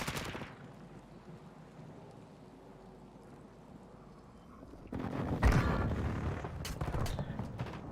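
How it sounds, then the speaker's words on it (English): Airstrike explosions and gunfire in a video game, with a low rumbling background before a loud, heavy blast hits midway and sustained booming and firing carries on afterwards. "Friendly airstrike in the AO."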